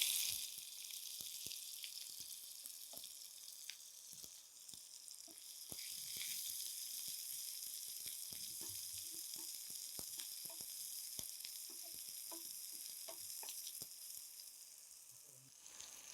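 Mustard seeds crackle and pop in hot oil with sliced onion frying alongside. The sizzle is steady and broadband, and sharp little pops are scattered irregularly all the way through, fairly close and alone.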